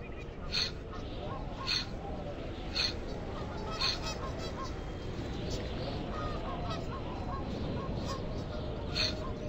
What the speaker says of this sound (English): There's a goose. We could shoot it if we had a gun.